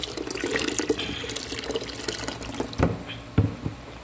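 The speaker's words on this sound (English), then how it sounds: "We're gonna put it in the blender, mix it with some coconut water." Coconut water pours into a blender in a steady, close liquid splash, with a few brief clunks near the end and no talking.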